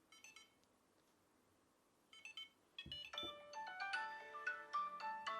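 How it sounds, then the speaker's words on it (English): A phone answers a ping sent by pressing the button on an Apple AirTag: a few faint beeps, then a bright melodic ringtone starts and keeps playing with growing loudness in a quiet room. "So when you press it, so you can ping your phone."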